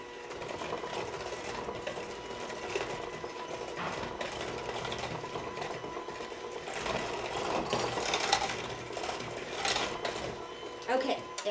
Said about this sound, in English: We take the electric mixer again